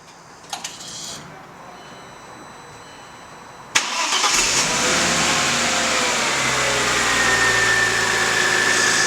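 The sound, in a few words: 2000 Audi S4 engine starting and idling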